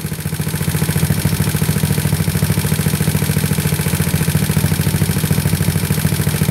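A GY6 scooter engine idles steadily at about 1800 rpm while warming up after a choke start, a loud, even, close mechanical drone with a fine rapid putter and faint clatter, no voices.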